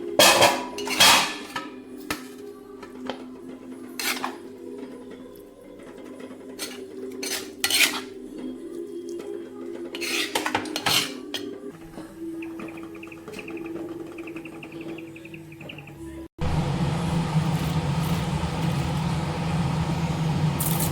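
Mashed brinjal scraped from a kadai into another vessel, with repeated metallic scrapes and clinks of a spoon on the pan, close by with no talk, ending in a steadier broadband clatter.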